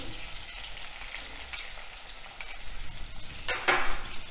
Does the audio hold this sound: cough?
no